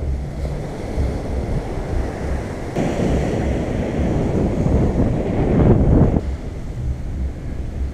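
Ocean waves on an Alagoas beach roll in as a loud, continuous surf roar that swells to a peak near the end, with wind buffeting the microphone and no voices.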